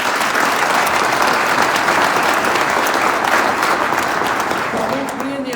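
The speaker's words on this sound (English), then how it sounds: "can we give the senator another round of applause?" A rally crowd applauds a senator at a public works bill rally, loud sustained clapping that fills the space and then begins to thin toward the end.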